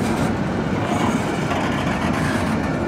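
A CSX freight train led by locomotive 341 rolls past as a steady, loud broadband rumble and rattle of wagons, continuous throughout with no voices.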